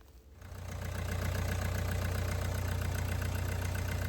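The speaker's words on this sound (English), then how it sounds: "start the engine and make sure that there's no leaks" A CRDI diesel car engine cranks and catches after a fuel filter replacement, then settles into a steady, rumbling idle with a rhythmic knocking pulse, close and continuous.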